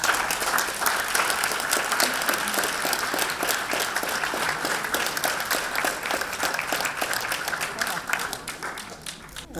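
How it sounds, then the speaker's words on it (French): Warm, sustained applause from an audience for Luce Vigo at the Prix Jean Vigo ceremony: a thick, steady wash of many hands clapping for nearly ten seconds, easing slightly at the end, with faint voices mixed in. "d'applaudir très chaleureusement."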